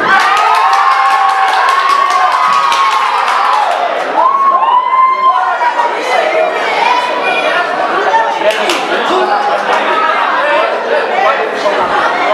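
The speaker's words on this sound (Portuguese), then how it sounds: "A torcida vem junto." A loud crowd at a Troia Fighter 2 MMA fight event cheers, shouts and whoops steadily for about twelve seconds, with a mix of chatter and voices throughout.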